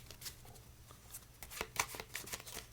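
A deck of playing cards being shuffled face down close up, with quick riffling and sliding bursts of papery flutter.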